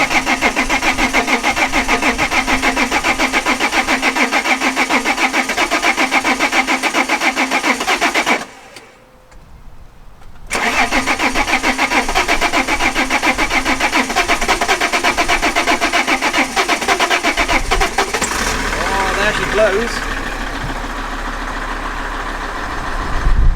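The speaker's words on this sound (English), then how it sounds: "it's honestly heartbreaking that we're going to start this car now" An Alfa Romeo car engine cranking and starting, a steady mid-range engine roar throughout, briefly cutting out to near silence for a couple of seconds before resuming and settling, close and loud.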